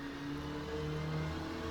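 A race car engine in a sim racing game, Assetto Corsa or rFactor2, set at Croft circuit, revs hard and steady in a loud, whining drone with the pitch climbing slightly over the short stretch.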